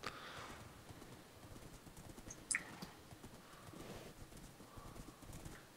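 Horse hooves in a Minecraft-style video game, a faint rapid clip-clop of galloping steps under a soft hissy background, with one brief sharp click partway through.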